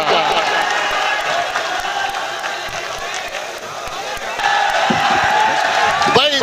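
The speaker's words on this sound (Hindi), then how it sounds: "जोरदार तालियों से इस्तकबाल करें" An audience at a mushaira poetry gathering breaks into steady applause and cheering, a dense continuous roar of clapping and voices that swells louder toward the end.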